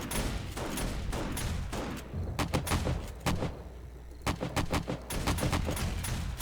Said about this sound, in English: They came to the side with all the shotgun turrets.